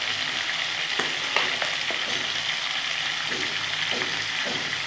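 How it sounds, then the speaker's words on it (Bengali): Fresh green peas fry with turmeric in a pan, giving a constant close sizzle broken by intermittent light scrapes and taps of stirring. "হলুদ দিয়ে আমি ভাজা ভাজা করে দিচ্ছি।"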